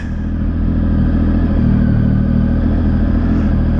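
A three-cylinder motorcycle engine idles steadily up close, a loud, dense, throbbing rumble with a gritty mechanical clatter that holds level throughout without revving.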